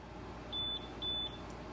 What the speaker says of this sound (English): it gives a beep sound from your instant camera